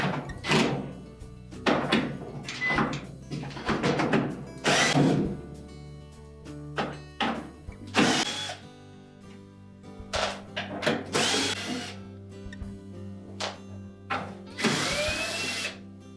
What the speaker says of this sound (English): Then we'll remove all of these 1/4 inch hex head screws around the perimeter.